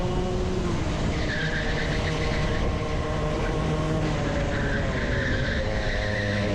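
Racing kart tyres skid and squeal in two drawn-out bursts as the kart oversteers on a club race track, over a constant loud engine drone.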